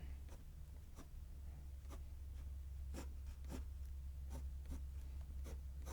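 A pencil sketches on paper while a house is drawn: quiet, close scratchy strokes come in short irregular taps and scribbles over a soft low hum.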